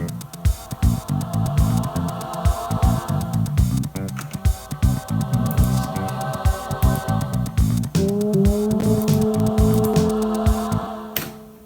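Chiptune-style overworld music in the manner of Shin Megami Tensei, with steady bass pulses and layered synth lines, playing continuously and fairly loud, with a brighter sustained melody entering near the end.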